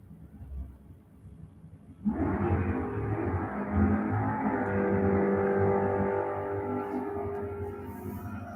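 A small-block Chevy drag car at a raceway roars into a loud, sustained run after about two seconds of low idle, the engine note holding steady and strong before easing slightly near the end.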